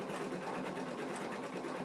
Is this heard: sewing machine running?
yes